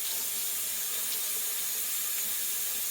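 Tap water runs steadily from a faucet over a raw Thanksgiving turkey being washed in a sink, a constant close hiss with no talking.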